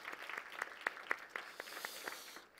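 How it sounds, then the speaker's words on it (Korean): A church congregation claps to welcome visitors, heard as soft, evenly paced claps in a quick steady rhythm that sound fairly distant and faint before fading out. "우리 그분들에게 따뜻한 환영의 박수 한번 보내면 좋겠습니다"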